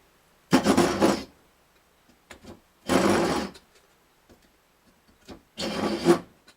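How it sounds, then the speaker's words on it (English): A hand saw cuts a wooden dowel inside an acoustic guitar body with three separate bursts of rasping backward strokes, close and fairly loud, separated by quiet pauses with small knocks. "Just got to saw backwards. I can't shove it forward, I'm afraid it'll break the dowel."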